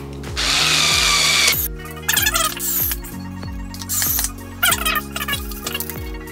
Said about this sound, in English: Now we're going to go ahead and screw this one down. This one doesn't need any Loctite. These are Phillips head screws.